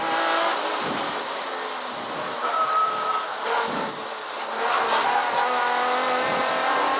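An estate car laps the Castle Combe race circuit, its engine droning steadily from inside the cabin, swelling and easing as the revs change.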